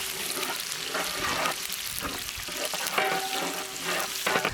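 Finely chopped onions and raw spices with cumin seeds fry in hot oil in a pan for coriander rice, a steady close sizzle broken by bursts of stirring.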